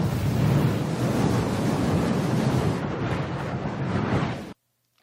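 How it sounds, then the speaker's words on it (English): Sound effect of a huge fireball blowing past at tremendous speed: a dense, roaring rumble with a broad windy rush that holds strong for several seconds, thins slightly, then cuts off abruptly into silence. "That was the sound of a fireball basically blowing by us."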